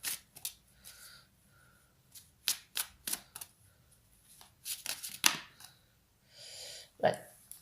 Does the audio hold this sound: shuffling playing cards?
yes